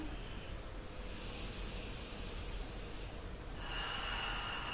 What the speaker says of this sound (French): Important, c'est cette respiration profonde.